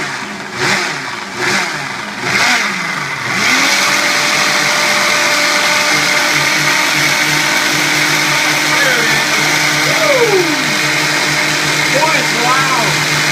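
A Ninja Mega Kitchen System 1500 blender runs in loud, sustained bursts of pulsing motor whine. A voice talks briefly before the motor kicks in, and the roar then holds steady to the end.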